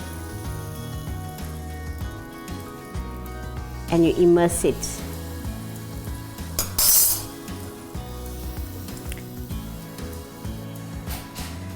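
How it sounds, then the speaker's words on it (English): Sizzling hot oil in a mold flares up in short bursts around the middle of the clip, with light clinks of metal, under steady talking and background music. "I'm just going to drip some of the oil out so it's manageable, and you'll hear a sizzle"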